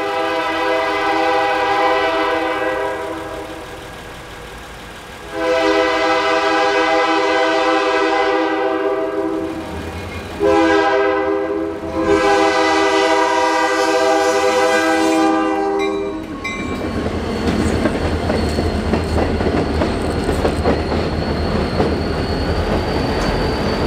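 Freight train horn blowing in several long, loud blasts as a light-power set of locomotives passes close by, followed by heavy rumbling engines and rolling wheels on rail.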